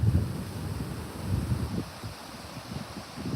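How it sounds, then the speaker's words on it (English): Steady low wind rumbling and buffeting against the microphone outdoors, with no voices. "it's really windy"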